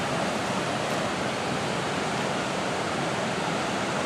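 Superior Falls, a river waterfall, roars in a dense, unbroken rush of white water, loud and steady throughout with no voices over it.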